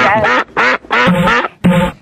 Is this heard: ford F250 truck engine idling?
no